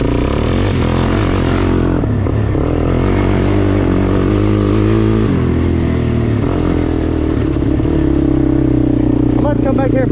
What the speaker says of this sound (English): this 400 sport motor, she's got